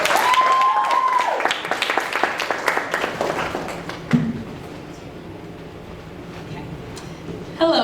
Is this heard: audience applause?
yes